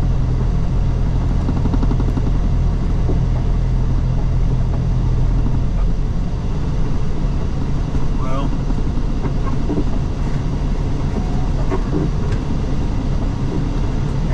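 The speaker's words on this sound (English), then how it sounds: "All the dump trucks coming in." Heavy engine rumble fills a truck stop as dump trucks come in, a loud continuous low drone with passing mechanical noise throughout.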